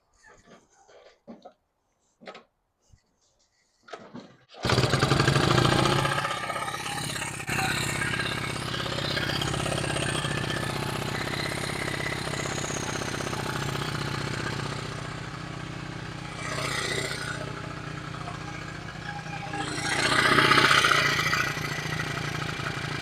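A Honda XR75 motorcycle, running on its factory idle screw, gives a few faint clicks and knocks before the engine catches. It then settles into a steady, close idle for about eighteen seconds, with a brief rise in revs near the end.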